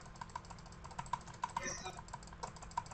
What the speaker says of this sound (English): I'm gonna try jitter clicking.